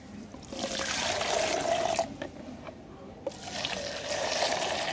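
Homemade phenyl cleaning liquid is stirred and mixed in a container, giving a continuous close sloshing, swirling liquid sound that dips briefly midway and then resumes, with no talking.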